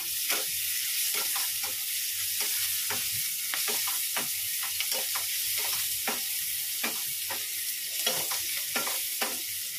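Beto shak greens frying in a hot pan with a steady, close sizzle, while a spatula stirs them in repeated scraping strokes throughout.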